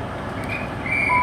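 A Great Western Railway high speed train pulls out of Bristol Parkway on a London Paddington to Swansea service, with Class 43 power car 43005 leading. A steady low rumble grows louder, and a thin tonal whine rises near the end.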